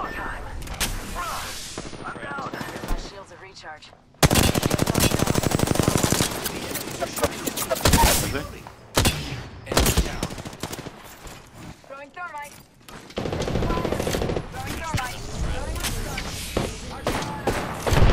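Automatic weapon fire in the battle-royale game Apex Legends, loud bursts and sustained fusillades with brief gaps, under a player's voice calling out during the fight.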